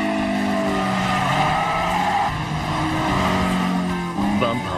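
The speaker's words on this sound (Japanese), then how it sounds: "バンパーをガードレールに擦りつけるようにして限界スピードで4輪ドリフトしながら最短距離を抜けていく" A Toyota AE86 four-wheel drifts through a corner at the limit in an animated mountain race, with a loud sustained tire squeal over revving engine noise and a shift in pitch near the end.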